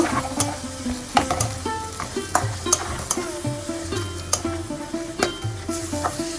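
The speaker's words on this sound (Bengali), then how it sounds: "চিংড়ি মাছ দিয়ে আমি আর একটু কষিয়ে নেব" Shrimp cooked in spice masala sizzles in a pan as a spatula scrapes and clanks against it in repeated, rhythmic strokes, loud and close over a constant frying hiss, with no one speaking.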